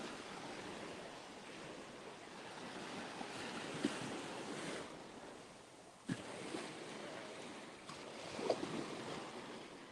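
Ocean waves break on a beach in a steady roar of surf, with wind buffeting the microphone and a few brief knocks; low-level, continuous and fairly distant.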